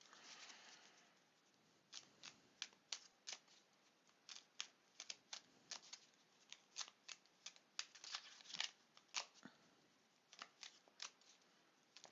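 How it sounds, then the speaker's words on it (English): Cards riffle and snap in quick bursts, a series of crisp fluttering shuffles with short pauses between them, close and fairly quiet. "Sometimes I have to take a little bit longer to shuffle"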